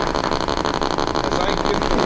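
Throaty engine roar from a sound module fitted to a radio-controlled HMCS Huron model ship as throttle is applied, a loud, dense, continuous drone with a rapid pulsing texture, heard alone.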